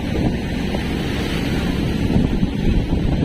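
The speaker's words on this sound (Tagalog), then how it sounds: "Ay mabagal lang yung takbo namin gawa ng maalon." A boat pushes slowly through rough, choppy seas, with a constant loud wash of wind and water rushing past and a low engine rumble beneath, no voices.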